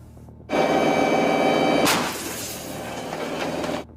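A self-propelled howitzer fires one loud, sharp boom that rolls into a long rumbling echo, alongside a steady droning engine.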